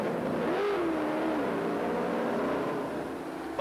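Can-Am race cars weave on track to warm their tires, giving a steady, fairly distant engine drone whose pitch rises and sags as the throttle varies.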